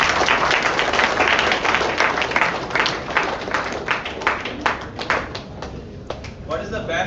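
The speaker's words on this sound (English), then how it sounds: "Let's give a round of applause." Audience applause at a national seminar on energy harvesting, many hands clapping loudly at first, then thinning into scattered claps as it fades out.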